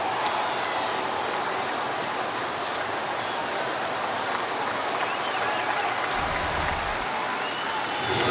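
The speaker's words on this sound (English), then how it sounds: "The fans here applauding the effort" Baseball fans at a Dodgers–Cardinals stadium game applaud a diving effort by Nolan Arenado, a steady distant wash of clapping and crowd noise without breaks.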